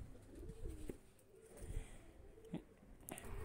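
Kept pigeons in a hobbyist's loft coo softly, low throaty calls repeating at an unhurried pace, quiet and close, with little else around them.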